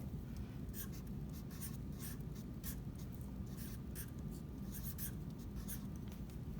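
Pen or pencil scratches across a paper template to write a label, short rapid strokes in close, quiet bursts over steady low background noise.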